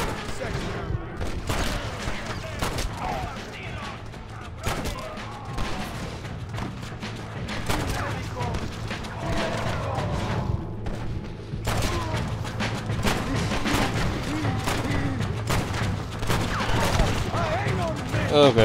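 Repeated gunfire in Red Dead Redemption: Undead Nightmare, a zombie western game, with sharp shots cracking again and again over a busy bed of game sound and music that grows louder toward the end, while a player talks now and then.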